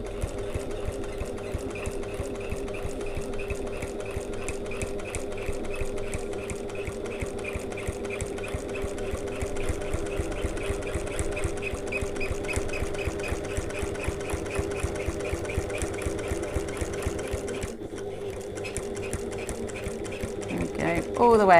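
A sewing machine stitches a bag seam in a long, continuous run of rapid needle thumps, with a brief pause near the end, and a voice can be heard faintly at times.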